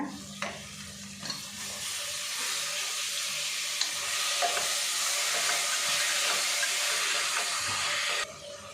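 Chopped tomatoes dropped into a hot oily pan with kasuri methi, a brief stir-clatter followed by a bright, steady sizzle and hiss that swells and holds close up, then cuts off near the end.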